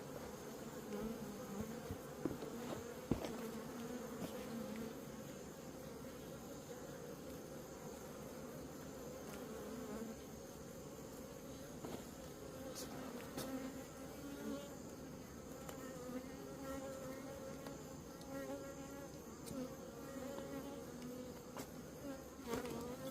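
Bees swarm around a beehive in a dense, continuous buzz that holds steady and fairly loud, with a few individual insects droning past close by and no voices.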